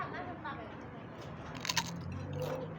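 Crunchy food being bitten and chewed at a spicy Thai noodle and pork-bone dish meal, a few crisp crunches close to the mic over quiet background murmur and faint talk.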